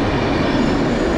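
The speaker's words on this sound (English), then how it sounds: "It's our train." Train arriving at a station in Poland, a dense continuous rumble and rolling roar that is close and loud throughout.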